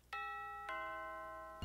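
A doorbell block chiming in a Minecraft datapack: two clear, ringing electronic dings with long sustained tones, and a third strike just beginning at the end.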